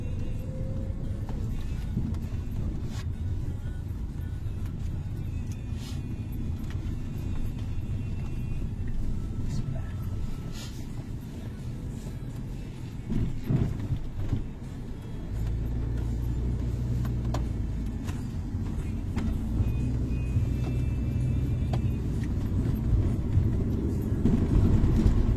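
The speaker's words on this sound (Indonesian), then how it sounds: "lalu lintas sudah semakin ramai ya kayaknya" Busy road traffic on a holiday homecoming drive, a steady rumble of passing vehicles with engine surges and whooshes, heard from inside or beside the road under occasional talk.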